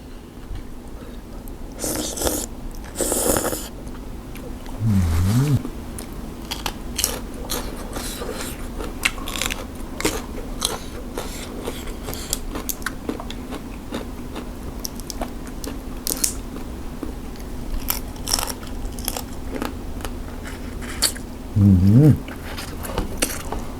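Crunchy biting and chewing of spicy blue crab papaya salad with bamboo shoots, close and intermittent under ongoing talk, with occasional sharper crunches.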